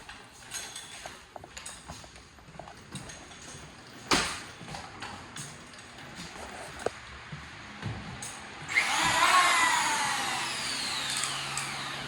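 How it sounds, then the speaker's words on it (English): A portable power planer takes two passes along the edge of a wooden bottom sash for a six-lite window, a loud steady whine rising in the second half after scattered knocks and handling sounds. "I'll do that with my portable planer too"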